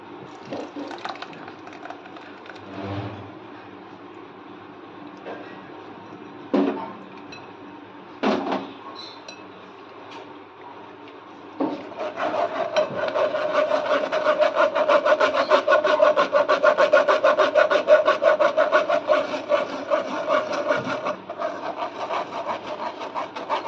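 Ground spice paste for butter chicken is pressed through a sieve. A few isolated scrapes come first, then a steady, close rasping rub continues for several seconds.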